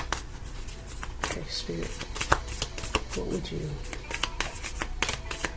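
Love oracle cards are shuffled by hand, giving close, crisp riffling and flicking bursts with soft taps in between while someone speaks quietly over them.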